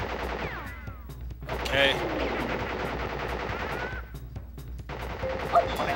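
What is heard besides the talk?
Tommy gun fire from Pinstripe in the video game Crash Bandicoot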